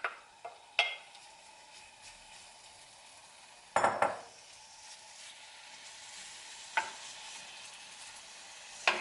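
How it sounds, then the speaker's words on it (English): Beef browning in a pan for sukiyaki don makes a quiet, steady sizzle, broken by several sharp clatters of a utensil stirring against the pan. "And I'll just fry that off until it's kind of browned all over."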